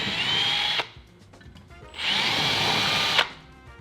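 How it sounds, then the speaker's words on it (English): A power drill whines in two bursts, each about a second long, separated by a short lull with faint clicks, as it drills through a kayak hull. "and drill through the boat."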